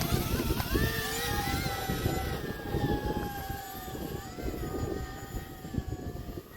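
An E-Flite V22 Osprey RC model hovers in high wind, its electric motors producing a steady high-pitched whine with a shifting tone, accompanied by a constant buffeting of wind noise.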